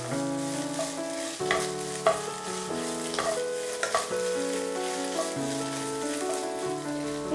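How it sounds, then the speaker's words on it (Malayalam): Chilli beef sautés in a pan over a medium flame, sizzling steadily and close by while a spoon stirs and scrapes it in an uneven rhythm, with no talking. "നമുക്കിതൊരു 2 മിനിറ്റ് മീഡിയം ഫ്ലെയിമിലിട്ട് നല്ലോണം സോട്ട് ചെയ്തെടുക്കാം"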